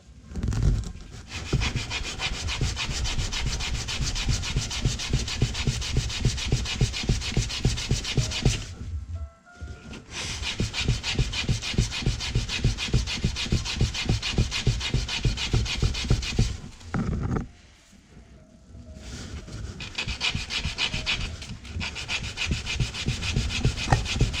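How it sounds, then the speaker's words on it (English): A wooden fishing float is sanded flat by hand, a loud, steady back-and-forth rasping in quick repeated strokes, broken by two short pauses, with no talking. "Okay, let's get that sanded down."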